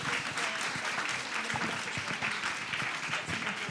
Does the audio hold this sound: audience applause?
yes